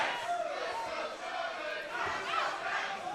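A wrestling crowd at NXT TakeOver roars and chants continuously in a large arena, a dense, steady wall of cheering and rhythmic voices.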